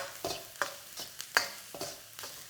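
Turmeric, curry powder and white pepper stirred into fried rice in a hot pan, heard as a quiet series of about six rhythmic scraping strokes with a soft sizzle underneath, no talking.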